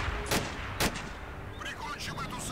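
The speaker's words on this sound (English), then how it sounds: "Fucking explosions! Explosion!" Gunfire and explosions ring out in a World War II–style video game battle between American and Axis forces: two sharp, loud blasts early on, followed by scattered crackling shots and distant rumble.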